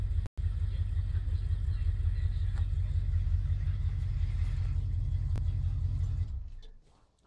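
A rebuilt 1978 Ford Bronco engine with a carburetor running a little rich idles steadily, a continuous low rumble close by that fades out near the end.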